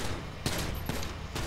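Gunfire in the FiveM role-play video game, a few loud sharp shots spaced out across a second and a half over dense, noisy game ambience.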